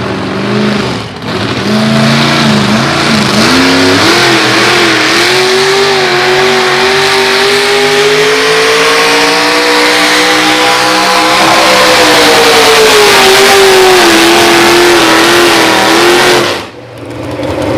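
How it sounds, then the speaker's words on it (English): A modified pulling truck roars at a county fair truck pull, its engine held at high revs in a loud, sustained snarl that rises and wavers across the whole run before cutting off near the end. "Good pull for that truck called Blast"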